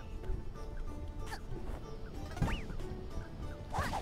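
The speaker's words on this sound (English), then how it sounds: "Chicken!" Chickens in the video game A Hat in Time, several brief clucks and squawks scattered over a soft background, faint and fairly distant.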